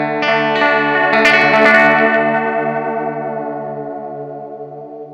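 A strummed guitar chord rings out through an Xvive Echoman Mini analog delay pedal with the modulation turned up, its sustained harmonics wobbling in pitch and smearing with echoes as the chord slowly decays, loud and alone.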